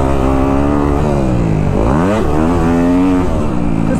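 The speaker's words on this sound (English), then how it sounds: "I feel like I'm absolutely ripping on this KX" A Kawasaki KX250F dirt bike engine revs hard and close, with its pitch rising, dipping briefly as the rider shifts, then climbing again in a continuous loud howl.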